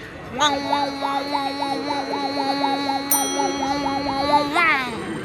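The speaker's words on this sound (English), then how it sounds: "You go through a warpy light tunnel that sounds like this." A warbling electronic tone from a theme park ride's light tunnel at Magic Kingdom hums steadily with a fast, rhythmic wobble for several seconds, then ends in a quick rising sweep.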